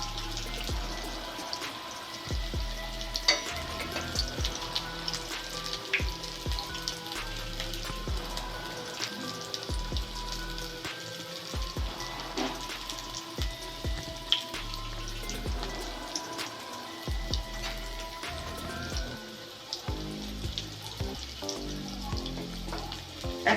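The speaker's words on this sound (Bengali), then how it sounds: "একসঙ্গে সব পকোড়া দিয়ে দেবেন না, অল্প অল্প করেই ভাজবেন।" Bread potato pakoras fry in hot oil over low to medium heat, a continuous close bubbling sizzle with many small pops and crackles running throughout, with no speech.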